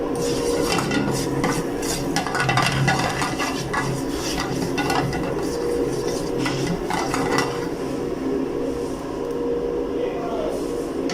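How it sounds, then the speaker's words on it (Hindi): Chicken tossed in a pan on a stove over a low flame for restaurant-style Singaporean rice, with continuous loud clanking of metal utensil against pan and sizzling, scraping rhythmically throughout, no one talking. "इसको आइए फिर से चूल्हे पे स्लो आंच पे टॉस करना है।"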